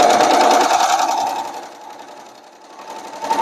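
A sewing machine hemming a special occasion dress whirs close and loud, then slows and softens before picking up again at the end.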